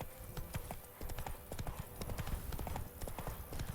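Steady rhythmic clip-clop of a horse's hooves galloping in The Witcher 3, fairly close and continuous, with a faint whinny-like tone and no speech over it.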